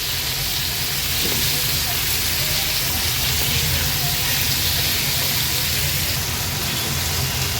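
Washed prawns hit a hot pan of onion and turmeric, giving a steady, loud, continuous sizzle and hiss close up throughout, with no voices.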